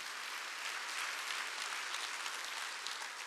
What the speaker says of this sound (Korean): 믿으면 박수 치라 이게요